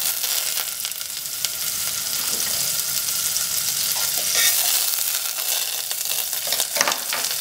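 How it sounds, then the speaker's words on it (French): A knob of butter melting in a pan, giving a continuous bright sizzle and crackle that swells briefly with stirring, close and fairly loud, with no voices. "je vais faire fondre une noisette de beurre"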